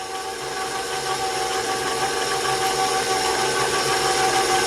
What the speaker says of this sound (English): while I have my mixer on